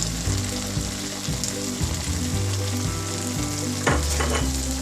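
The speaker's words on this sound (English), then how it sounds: "here goes the paneer, our cottage cheese. So just give it a stir" Paneer cubes stirred in a frying pan for chilli paneer, a steady loud sizzle with scraping stir strokes, close up and without talk.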